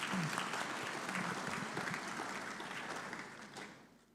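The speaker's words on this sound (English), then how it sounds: "Please, a round of applause." Conference audience applause at an African business summit's main hall, a broad, steady wash of clapping from a large crowd, fairly distant in the room and slowly fading toward the end.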